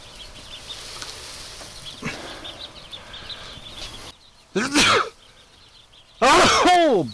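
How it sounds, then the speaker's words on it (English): A person sneezes twice, loud and close, the second more forceful, amid soft peeping of ducklings in a quiet pen, with brief rustling between. "Oh, they don't like sneezes."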